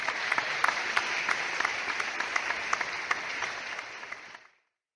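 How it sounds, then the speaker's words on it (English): Audience at a GED graduation ceremony applauds the education staff with steady, dense clapping from a large crowd that holds for several seconds, then tapers quickly to silence. "A quick round of applause for the education staff."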